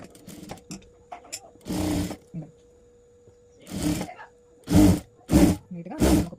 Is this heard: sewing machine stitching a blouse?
yes